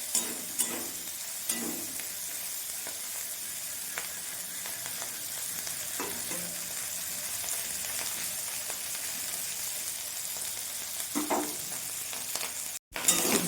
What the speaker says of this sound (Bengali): ভুসো মাছ ভাজা হয়ে গেছে